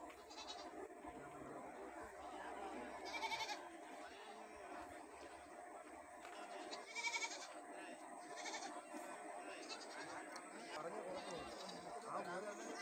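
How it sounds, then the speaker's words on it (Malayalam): Goats bleating at a busy open-air goat market, with male goats tethered among the stock. Repeated bleats rise over a steady murmur of crowd chatter and voices nearby. "ഒരുപാട് ആടുകൾ ഈ ഭാഗത്ത് വാങ്ങി കെട്ടിയിരിക്കുകയാണ്."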